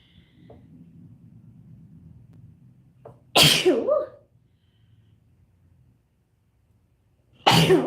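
A sharp, loud sneeze bursts out, followed a few seconds later by a second one cut short, over a faint low hum.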